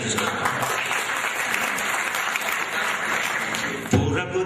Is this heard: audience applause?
yes